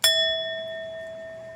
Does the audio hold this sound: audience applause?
no